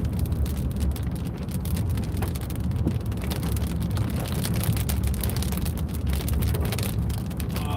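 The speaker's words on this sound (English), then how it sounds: "it's really big droplets" Heavy storm rain pounds a car windshield, big droplets striking the glass in a dense, loud, steady patter close by, with no talk.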